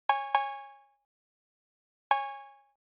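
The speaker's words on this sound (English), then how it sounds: "And then finally, I just added this cowbell sound." Cowbell sample in a dark trap beat: two quick bright metallic hits in succession, a pause, then a third hit, each ringing briefly and decaying, heard alone without other drums.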